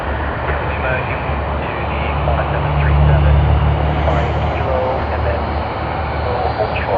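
A Qantas airliner in retro livery moves at Sydney Airport, its engine rumble swelling louder near the middle and then easing, with a voice talking over the top.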